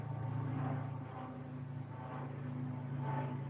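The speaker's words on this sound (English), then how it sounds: "helicopter." A helicopter passes overhead, making a steady, moderately loud droning hum with slight swells in intensity and no other sounds over it.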